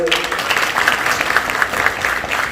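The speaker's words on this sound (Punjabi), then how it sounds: "ਪਲੀਜ਼ ਤਾੜੀਆਂ" An audience at a play in a gurdwara claps together in steady, sustained applause, close and fairly loud throughout.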